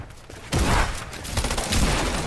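Dense, sustained gunfire from a video game shooter erupts after a quieter start and rolls on as a loud, continuous volley with no talking over it.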